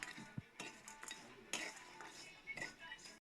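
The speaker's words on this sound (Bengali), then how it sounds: "নেড়ে চেড়ে এবার পুর তৈরি করে নেব" A spoon stirs grated coconut and date jaggery for a pitha filling in a pan, making soft, close scrapes and clinks in short bursts at low volume.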